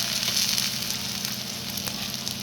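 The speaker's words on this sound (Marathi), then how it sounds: "आता आपण तयार केलेल्या छिद्रांमध्ये थोडं थोडं करून तेल टाकायचं आहे" Oil sizzles steadily as methi thalipeeth, a fenugreek flatbread, fries in a pan with oil dropped into holes in the dough, a close continuous crackling hiss with small pops throughout.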